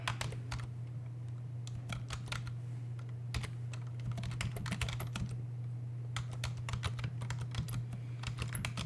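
Typing on a computer keyboard, irregular bursts of close, crisp key clicks over a constant low electrical hum.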